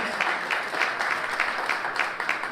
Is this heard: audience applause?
yes